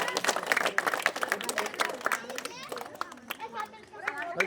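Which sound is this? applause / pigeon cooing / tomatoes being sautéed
applause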